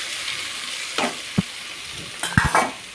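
Vegetables fry in a pan under a steady sizzle, with a few sharp spatula knocks and scrapes near the end and no talking.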